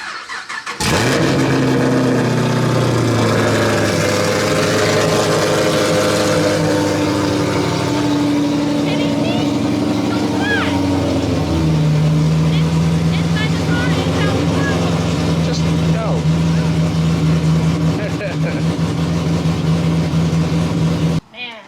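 A fifth-generation Chevrolet Camaro engine runs loud and close while the car is moved, a deep rumbling idle that shifts to a lower, steadier drone partway through, with people talking over it.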